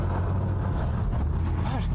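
Steady engine and road rumble from a car on a winter road, close and even, with no voices.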